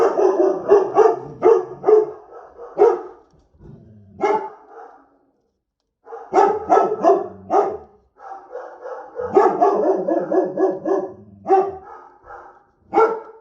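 A dog barks repeatedly and close, in rapid clusters of sharp woofs separated by short pauses, with a few whimpering yips between bursts.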